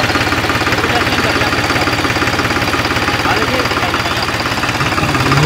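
New Holland 6510 tractor engine running close by at a steady idle with an even, rapid diesel knock throughout.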